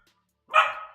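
A dog gives a single short, sharp bark at the door, fairly close and clear, after a moment of near silence.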